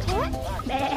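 A goat at Dubua cafe in Nakhon Chai Si, Nakhon Pathom, gives a short, wavering, nasal bleat nearby, mixed with people talking over it.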